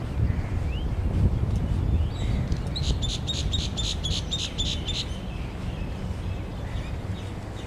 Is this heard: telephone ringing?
no